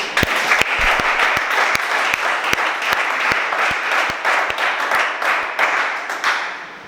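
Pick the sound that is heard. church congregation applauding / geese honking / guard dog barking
church congregation applauding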